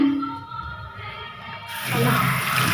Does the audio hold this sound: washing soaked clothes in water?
yes